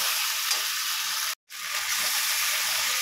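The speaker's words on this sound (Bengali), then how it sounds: "নুন আর হলুদ দিয়ে দিয়েছি, এবার ভালো করে কষিয়ে নেব" Spice paste seasoned with salt and turmeric frying for a silver carp fish curry, a loud, dense, steady sizzle close up with a brief dropout in the middle.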